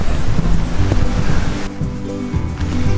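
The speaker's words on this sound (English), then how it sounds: "It's wet, it's windy." Strong wind buffets the microphone on wet, misty Dartmoor moorland with loud, rumbling gusts that roar continuously throughout.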